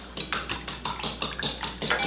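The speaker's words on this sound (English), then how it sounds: "let's use a fork to beat the eggs." A fork beats eggs in a bowl, producing quick, evenly spaced metallic clinks and taps, about a dozen strokes in a steady rhythm, close and clear with no talking.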